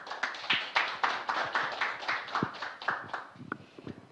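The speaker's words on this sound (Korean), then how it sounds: "큰 박수 부탁드립니다" Scattered audience clapping at an international DMZ peace cooperation forum session: irregular, fairly sparse hand claps that build and then thin out over a few seconds, with no voices.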